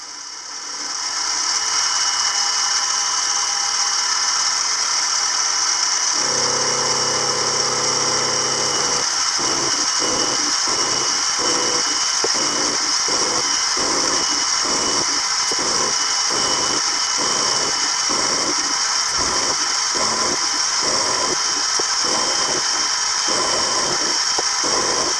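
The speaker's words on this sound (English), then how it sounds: "I simply brought down the milling cutter until it just touched the corner and then carried on milling" A milling machine cuts the steel side plates of a Hemingway knurling tool, a steady motor whine that turns into a fast, even chatter of cutter teeth biting the metal, loud and continuous with no talk.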